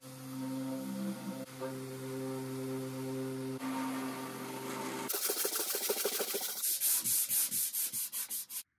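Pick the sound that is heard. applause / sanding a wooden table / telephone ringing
sanding a wooden table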